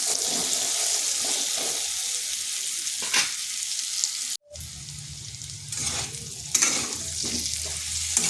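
Close, steady sizzle of pumpkin pieces frying with salt and turmeric, with scraping stirring sounds and occasional clinks of a utensil against the pan; no talking.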